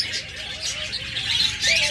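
A large flock of caged cockatiels gives continuous high, overlapping chirps and calls, loud and near, forming a busy chattering wash.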